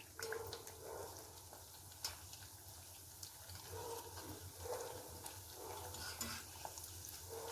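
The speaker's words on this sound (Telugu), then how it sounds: "వీటిని ఇప్పుడు ఆయిల్లో ఫ్రై చేసి చూపిస్తాం" Dried ash gourd fryums and urad dal vadiyalu dropped into hot oil, giving a faint, steady bubbling sizzle with occasional soft clinks and stirring sounds nearby.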